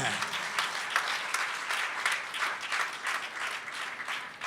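Sunday evening church congregation applauds the singers, a soft, even wash of many hands clapping throughout, fairly distant and quiet, with faint murmuring mixed in.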